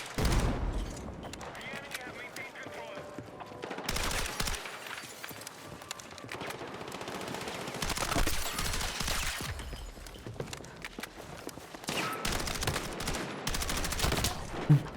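Rapid bursts of SCW-10 submachine gun fire in the video game Battlefield 6, loud and close, coming in dense volleys with short pauses, mixed with other game effects while a player talks over it.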